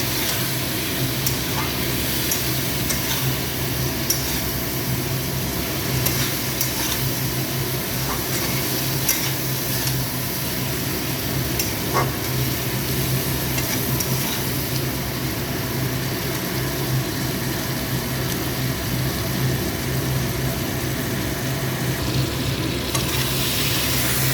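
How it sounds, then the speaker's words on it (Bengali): Cumin, turmeric and salt sputter in hot oil, a loud, steady sizzle with spatula stirring and scraping throughout, close and continuous, with a faint low hum underneath. "জিরে গুঁড়ো দিলাম, তাহলে নুন হলুদ আর জিরে দিলাম, দিয়ে এটাকে ভালো করে কষাতে থাকে"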